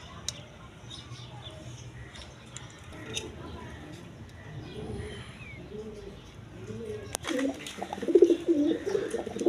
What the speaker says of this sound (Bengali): এখানে একটা গররা সিঙ্গেল নর কবুতর আছে